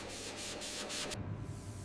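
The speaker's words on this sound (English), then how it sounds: "Careful shaping and sanding ensure the body regains its original elegance and flowing lines." Body filler on a 1963 Jaguar Mark 2 body is sanded by hand in repeated rasping strokes, a steady close-up scratchy rub that continues without a break.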